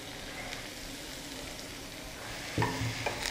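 Veg dry Manchurian sizzles steadily in a hot pan, a soft even hiss, then a spatula scrapes and clatters against the metal as it is stirred near the end.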